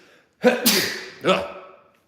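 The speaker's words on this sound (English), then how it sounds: "Hold on, I have to sneeze." A single loud sneeze, a sharp inhaled burst followed by a second explosive gust, close to the microphone with no talking.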